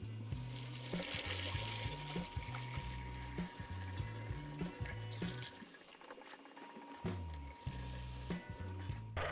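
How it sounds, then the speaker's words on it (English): Water streams steadily from the bleed plug at the top of a car radiator, a continuous faint trickle under a rhythmic mechanical thumping that drops out briefly partway through. "We got steady stream of water coming from top of the radiator."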